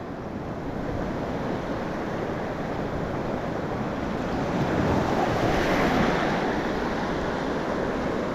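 Steady roar of surf washing in and receding along the shore, with constant wind buffeting the microphone; no voices.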